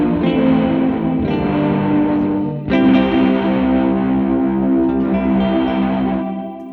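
An electric guitar played through an Alexander Space Force reverb pedal rings out in sustained chords, with distorted, echoing trails washing after each strum; a second loud attack restarts the wash midway.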